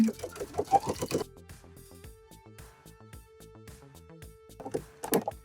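A sewing machine stitching fabric for a couture bow, a fast, steady mechanical chatter running in the middle, framed by someone talking at the start and end.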